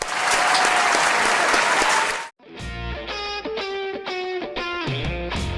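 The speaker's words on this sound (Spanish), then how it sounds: "Un aplauso." Audience applause, loud dense clapping for about two seconds that cuts off abruptly into a burst of music.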